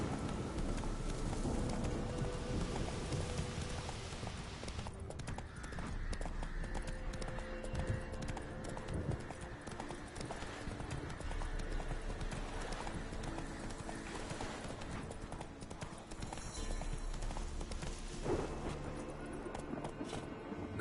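Roach, the horse in the video game The Witcher 3, gallops with steady, loud, continuous hoofbeats across the whole stretch, joined by game ambience and occasional snorts.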